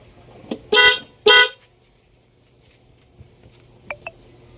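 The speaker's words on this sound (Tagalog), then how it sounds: "Tumutunog yung horn na stock. Tumutunog din yung PIA." A motorcycle's stock horn and an added PIA aftermarket horn blare together in two loud, close honks of about half a second each, followed by quiet and a couple of faint short beeps.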